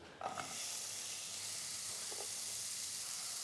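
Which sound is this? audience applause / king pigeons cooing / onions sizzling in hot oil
onions sizzling in hot oil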